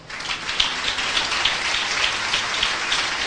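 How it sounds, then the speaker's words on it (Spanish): Church congregation clapping together, a dense hiss-like wash of many hands with faint rhythmic pulses, steady and fairly loud, with no talking. "Fuerte aplauso al Señor."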